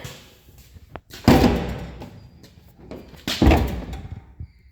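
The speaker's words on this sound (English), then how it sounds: "Let's see what it looks like with the door shut." A car door on a Gremlin undergoing bodywork is shut twice, each a loud close thump with a rattling tail, a few seconds apart, with light handling noise between.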